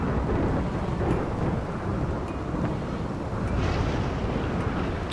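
Heavy rain and rolling thunder in the colony-building game Rimworld form a dense, loud, continuous roar that runs unbroken throughout, with no voices.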